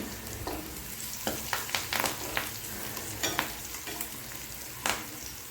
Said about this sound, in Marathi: आता थोडंसं परतून घेतल्यानंतर कढीपत्ता घातलेला आहे इथं